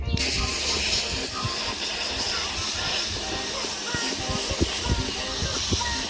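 A pressure washer sprays on an old Chevy C10 truck with a steady, loud hiss of water, a continuous rushing spray broken by faint knocks and clatters.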